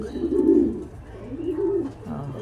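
A pigeon coos in soft, low, throaty bursts, two or three rolling calls close by with faint background noise.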